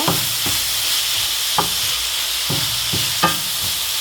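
Something is sautéed with salt and turmeric for tomato rice, making a loud, steady frying hiss. A few scraping stirs come at roughly regular intervals, close up.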